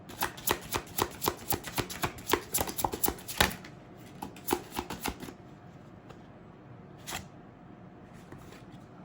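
Tarot cards riffled and shuffled by hand at close range, a quick burst of crisp flutters for a few seconds, then a few scattered slaps and quiet handling with no talk.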